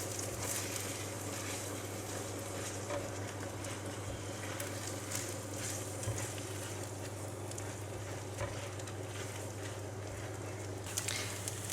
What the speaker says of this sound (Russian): И вот так постоянно помешивая, жарим вот до такого состояния.